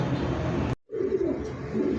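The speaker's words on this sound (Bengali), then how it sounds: "সুন্দর একটা কবুতর" Soft, low pigeon coos repeat close by over a steady background hum, broken by a brief moment of near silence, at a pigeon market.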